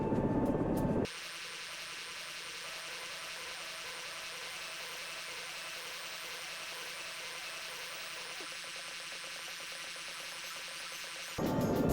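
A rescue helicopter in the SAR4 flight simulator drones with a steady, even engine and rotor hum, after a brief louder burst at the start, continuing unchanged with no talk until a short burst returns at the end.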